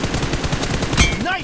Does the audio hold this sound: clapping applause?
no